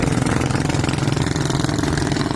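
Loud, steady drone of two boat engines running close by, a continuous low rumble with no voices.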